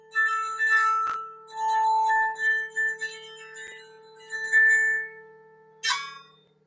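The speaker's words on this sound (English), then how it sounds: "If I wanted to get that grainy sound, see, I press down a little more." Electric guitar string sustained with an EBow, pressed down harder for a grainy, buzzing tone; long singing held notes with shimmering overtones, clear and close, ending in a brighter plucked ring.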